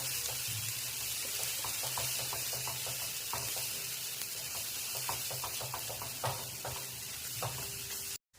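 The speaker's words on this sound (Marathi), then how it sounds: "त्यामध्ये मी आता हा एक चमचा पावभाजी मसाला टाकते आणि एक छोटा चमचा लाल तिखट किंवा लाल मिरची पावडर आणि ते पण आपल्याला चांगलं परतून घ्यायचं आहे" Pav bhaji masala and red chili powder sautéing in a pan, a steady close sizzle broken by soft scraping stir strokes at a fairly regular pace, with no voices.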